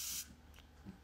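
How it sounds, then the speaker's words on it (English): One brief, loud hiss of an Ambered Oud Cream perfume bottle's pressurized sprayer bursts at the start and cuts off, followed by faint handling noises in a quiet room. "And I want to show you the sprayer."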